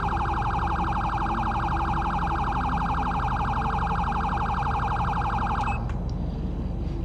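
A police siren in panic mode from an LSPDFR ELS mod for GTA V wails loud and continuous in a rapid warbling pattern, then cuts off abruptly near the end, leaving a low background rumble.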